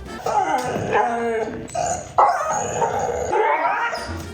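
A dog barks and whines in a garage or workshop during a bicycle brake repair, with pad and sensor replacement underway; several loud, close, irregular vocal bursts fill most of the moment.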